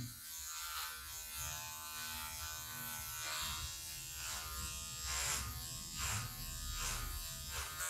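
An electric hair clipper buzzes steadily and close while cutting straightened hair, its tone swelling and dipping in repeated passes as it is drawn back and down across the head, with no talk.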